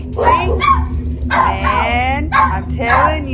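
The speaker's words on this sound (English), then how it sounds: "Ignore my dogs." Pet dogs yip, bark and whimper close by in a short burst of high, wavering cries, with someone talking over them.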